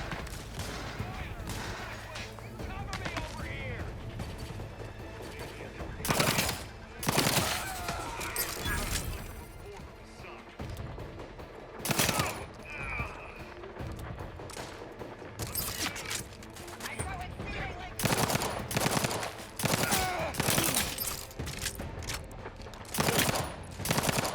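Gunfire in the video game Outer Worlds 2, loud bursts of automatic and single shots recurring in clusters over a low game ambience, with a voice talking in between.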